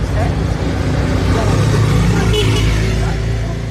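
A jeepney engine in a video game drones loudly and steadily with a low rumble, while people talk over it.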